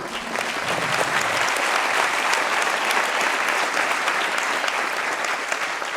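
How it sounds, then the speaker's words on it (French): Dense, steady applause from a large audience giving a standing ovation at an anniversary evening gala, sustained and even throughout with no break. "Un petit standing ovation pour Bruno Châtaignon"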